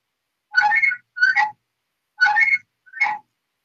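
A phone ringtone plays four short chirping tones in two pairs, loud and close, with silence between them, while a livestream is being set up.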